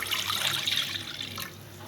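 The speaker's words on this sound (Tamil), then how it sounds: "இப்போ ஸ்டவ் ஆன் பண்ணி நான் ஒரு கடாய் வச்சு அதில் 1/2 liter பால் ஊற்றிக்கலாம்." Half a liter of milk poured into a kadai pan on a stove gives a close, steady liquid rush of about a second and a half that tapers off, with no talk.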